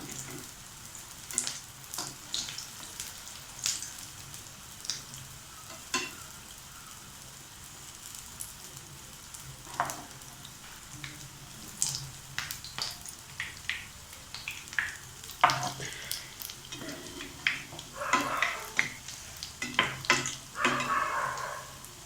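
Small sweet bonda dough balls fry in hot oil over a low flame, giving a steady soft sizzle with scattered crackles and pops that grow busier toward the end, plus occasional stirring.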